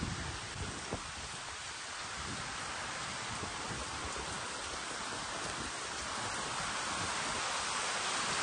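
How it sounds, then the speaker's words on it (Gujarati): Steady, dense heavy rain pours continuously during flooding, a broad hissing wash of drops without pause and no voices. "હજી વરસાદ કન્ટિન્યુ ચાલુ છે બંધ નથી થતો"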